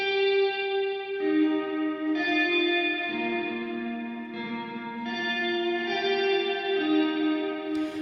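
Sustained electric guitar notes washed through an Immerse Mark II reverb pedal, each new pitch blooming over a long ringing tail, with a steady, full tone and shifting chords every second or so.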